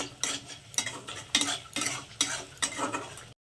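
A utensil stirs and scrapes spice paste frying in oil in a pan for a taro-and-prawn curry, giving about seven rhythmic, close-up scraping strokes over a soft sizzle before it cuts off abruptly.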